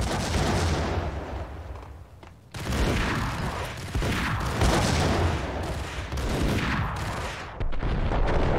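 Dense, loud grenade blasts and rapid gunfire in the video game Max Payne crash together continuously, with heavy booming explosions layered over a constant chaotic battle din.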